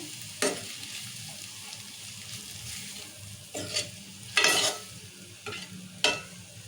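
Onion with salt, turmeric, chili powder and ginger-garlic paste fries in hot oil, a soft steady sizzle broken by several sharp, close scrapes of a spoon stirring the pan.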